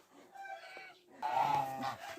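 Chickens clucking close by, a few drawn-out calls followed by a louder burst of overlapping clucks, with no one talking.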